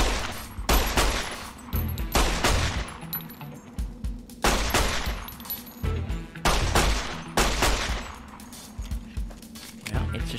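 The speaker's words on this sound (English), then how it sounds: "Let's try out the gun range, because before I had no ammo, so I didn't even bother doing any shooting." Repeated gunfire at a shooting range in Fallout: New Vegas, delivered in sharp bursts and single shots with a steady rhythm, loud and without talk.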